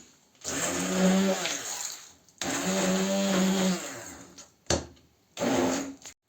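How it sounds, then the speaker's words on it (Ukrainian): An electric blender whirs in several bursts, long pulses then shorter ones, its motor buzzing loudly as it mixes waffle batter, with brief pauses between. "Скористаюсь блендером, щоб зробити однорідну консистенцію тіста."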